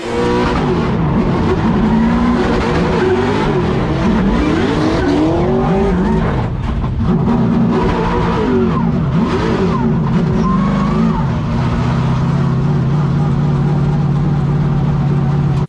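A Nissan S14 pro drift car slides around the outer zone in a drift battle, engine revving and wailing loudly with rising and falling pitch while tires squeal continuously, close and dense throughout.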